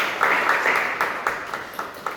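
A classroom group claps for a student team after their answer, a quiet, brief patter of applause from several people with a few distinct claps standing out.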